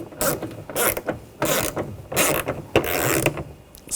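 Ratcheting clicks from a hand tool tightening a screw into the door bezel of a 2014-2020 Nissan Rogue during rear window regulator replacement, in several close, loud bursts separated by brief pauses.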